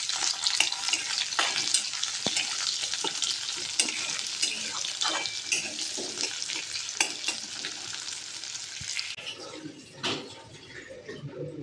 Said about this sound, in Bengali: তাহলে একটু গোটা জিরে দিলাম, আর পেঁয়াজ দেবো